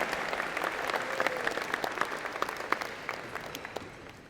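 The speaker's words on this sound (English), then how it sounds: "give them a big round of applause for winning national awards" A university engineering convocation audience applauds national award winners, steady dense clapping from a large crowd filling the hall, even in level and gradually easing off toward the end.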